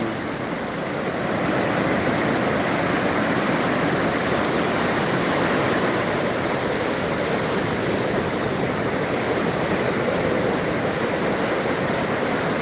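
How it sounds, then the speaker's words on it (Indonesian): Large sea waves at high tide roll in as a steady, dense roar of surf that swells in over the first second and holds without a break, with no voices. "sore ini ombaknya besar, kawan"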